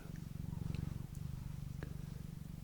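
Pet cats purr close by in a soft, steady rhythmic rumble with regular breathing pulses, quiet and intimate, a few faint clicks over the top.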